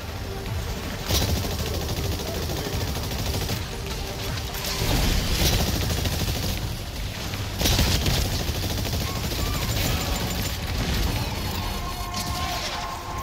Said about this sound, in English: Deadeye strikes with gunfire and grenades.